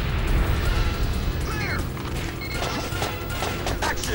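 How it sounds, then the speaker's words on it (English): A crate bursts apart with a crash amid dense, noisy action in the PS1 light-gun shooter Time Crisis, set against steady game clatter with no talking. "Another explosive crate there."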